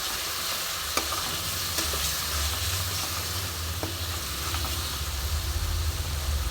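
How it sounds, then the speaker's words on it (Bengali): Spices stir-fried in oil for ajwain chicken, with a constant, dense sizzle and hiss and a few sharp spatula taps against the pan, close and steady throughout. "দিয়ে আমি খুব ভালো করে আবার কষবো যতক্ষণ না মশলা থেকে আমার তেলটা ছেড়ে আসবে"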